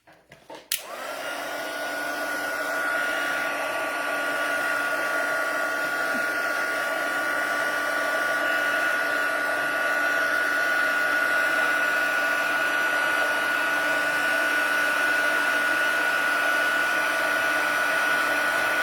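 A heat tool melting embossing powder on a handmade card switches on with a click and runs for nearly twenty seconds as a steady, close, whooshing fan roar with a faint high whine.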